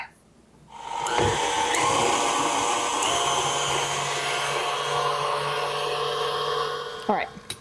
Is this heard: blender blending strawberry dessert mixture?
yes